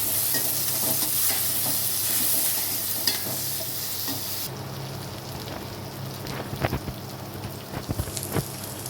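Ivy gourd fry with curry leaves stirred in an oiled pan, a steady sizzle with scraping spoon strokes and clacks that grow more frequent toward the end, no voices.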